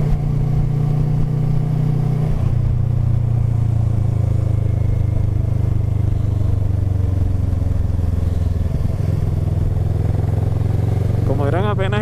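A motorcycle engine drones steadily and loudly throughout a ride, its pitch shifting slightly as it changes gear, with wind rushing past.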